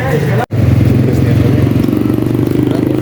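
A Fekon Falcon X400 400cc motorcycle engine runs loud and close with a rhythmic, pulsing idle chug, briefly cut out near the start.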